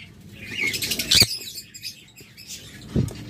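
Caged pet birds at a sale, quick fluttering wing flaps and light scrabbling close by, with a brief burst of flapping, then quieter rustling and a soft thump near the end.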